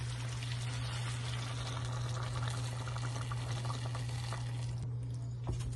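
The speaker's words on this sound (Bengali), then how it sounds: "এই পর্যায়ে আমরা পানি দিয়ে দিব।" Hot water poured into a karahi of browned, frying beef makes a continuous gushing, bubbling wash over a low steady hum, moderately quiet, then tapering near the end with no talk.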